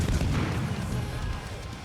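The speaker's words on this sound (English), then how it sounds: "I want to get as many shots into the Minikaze as I can." Booming salvos from the 130mm guns of the destroyer Gremyashchy in the naval combat game World of Warships, a dense, loud, continuous low rumble of gunfire that barely lets up for two seconds.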